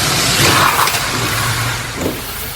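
A car rolls up from behind, its mid-pitched engine rumble and tyre noise steady and fairly close, with a slight swell early on and no voices.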